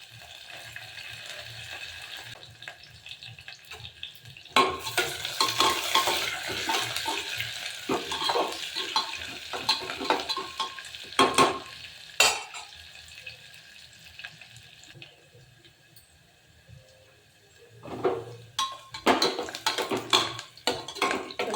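Curry leaves and chopped onion fry in hot oil for masala rice, sizzling steadily while a utensil stirs and scrapes the pan in bursts, with louder crackling flare-ups scattered throughout.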